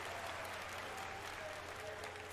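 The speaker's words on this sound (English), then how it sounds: "There are way too many people clapping for this." A large crowd at the E3 2019 Bethesda presentation applauds continuously, a dense wash of clapping heard from a distance, with no pauses.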